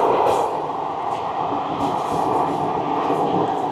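The Runicha Express rumbles along the line between Makrana and Degana junctions, a loud, steady roar of wheels and carriages heard from inside the moving train, with no break throughout.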